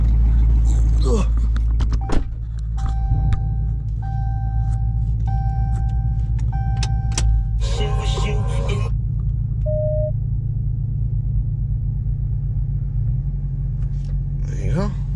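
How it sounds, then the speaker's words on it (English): A Dodge Charger RT Hemi rumbles with a low, steady idle as it is moved. Electronic chimes and a brief whirring sound partway through, and a person talks at times over the engine. "I'm gonna move my car."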